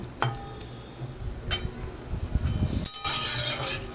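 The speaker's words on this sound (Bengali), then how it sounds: "সব মশলাটাকে আর এই সবজিটাকে একসাথে ভালো মতন মেশাবো" Spices and vegetables for a potato and pointed gourd curry being stirred together in a pan over a raised gas flame: soft scraping stirs and a low sizzle, with a few light metallic clinks of the spoon against the pan.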